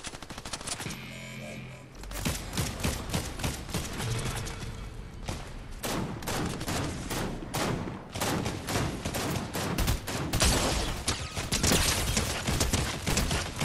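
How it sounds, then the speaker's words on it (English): Video game gunfire in a Predator and Alien shooter, with dense rapid bursts and single shots crackling loudly and almost nonstop throughout, close by and with no talking. "You're getting shot at by some other fucking team right there"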